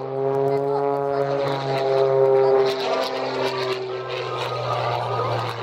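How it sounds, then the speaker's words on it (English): Aerobatic propeller airplane rolling and pulling straight up across the show line at an air show, its steady engine drone loud and close throughout, swelling and easing slightly as it maneuvers, with no talk over it. "Coming back across the show line, doing rolls and pulling back straight up again, rolling over the top."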